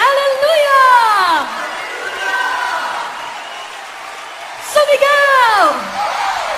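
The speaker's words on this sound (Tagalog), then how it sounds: "lahat tayo'y sumigaw ng Hallelujah!" A church congregation shouts Hallelujah together in loud, rising and falling crowd cries, with two big swells of voices separated by a quieter stretch of chatter.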